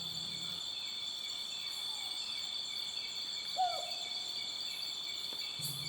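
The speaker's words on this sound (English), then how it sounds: "Soothing cricket songs radiated throughout the forest." Crickets in a forest at night trill in a continuous, high-pitched, dense chorus that holds steady throughout, with a faint low hoot briefly audible in the background.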